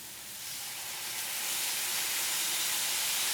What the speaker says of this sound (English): you're going to hear it sizzle.